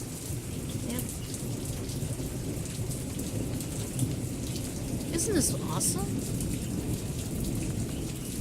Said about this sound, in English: I just love listening to the storm. Actually, I like listening to thunder, quite honestly.